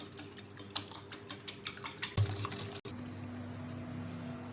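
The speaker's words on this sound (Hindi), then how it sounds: "अब मैं ये अंडा लेके इसमें तोड़ दूंगी और इसको अच्छे से मिक्स कर लूँगी" An egg being beaten in a bowl, about a dozen quick, evenly spaced clinking strokes up close, then a sharp knock and the strokes stop, leaving a quiet kitchen hum.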